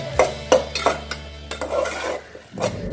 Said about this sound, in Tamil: அரைச்சி வச்சுருக்கிற அந்த மசாலாவை இப்போ அதில் போட்டு வதக்கணும்